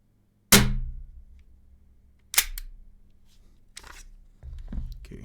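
An ASG Commander XP18 airsoft Glock replica pistol is dry fired at close range, giving three or four sharp metallic snaps of the slide and trigger spaced a couple of seconds apart, with softer handling clicks between and no talking.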